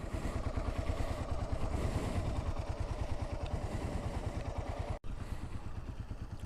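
A motorcycle rides slowly through a set of cones, its engine putting out a steady, close, rhythmic thrum with no voices over it and a brief dropout near the end.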